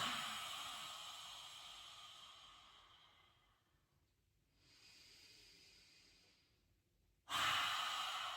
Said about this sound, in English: taking an inhale, opening the chest, and exhaling out through the mouth